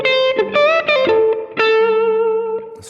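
Blues lick on an electric guitar over a shuffle in A, a few clear single notes with string bends and a sustained held note, slightly driven tone with light effects, close and alone.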